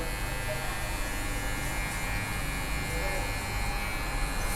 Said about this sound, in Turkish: Yine bir buçuk makine tarağını takıyorum burada